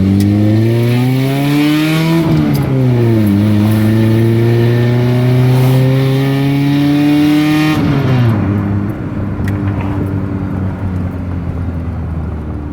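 A car engine revs up through the gears, pitch climbing, dropping at each shift, then climbing again, loud and close, with no voices.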